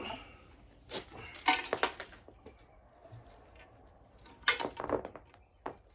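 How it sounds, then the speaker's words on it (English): Loose metal pieces from a blown engine tumble out of a milky, damaged oil pan, giving scattered bright clinks and rattles in a few quick clusters, close and fairly soft. "Even more metal pieces is coming out"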